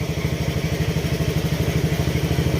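A motorcycle engine that had run dry of oil idles steadily nearby, its low, rhythmic chugging pulsing evenly with a slight rattling clatter.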